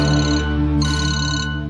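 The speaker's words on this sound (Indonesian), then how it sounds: "Tiba-tiba sebuah telepon milik Sandra berdering." A mobile phone rings with a reminder alarm in a bank heist film, a loud electronic tonal melody with stepped, layered tones sounding alone and steady for the short stretch.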